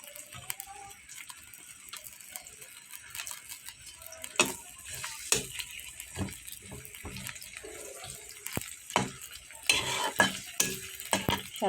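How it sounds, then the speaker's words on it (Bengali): Chopped onions fry in hot oil with a soft sizzle under frequent stirring, scraping clacks and clatters of a utensil in the pan coming close and fairly loud. "তেলটা গরম হয়ে গেলে পেঁয়াজ কুচি দিয়ে দিব। পেঁয়াজটা আমি লাল লাল করে ভেজে নিব।"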